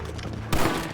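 A sudden gunshot in the Western video game Red Dead Redemption, one sharp loud crack that cuts in about halfway and is followed by ringing noise.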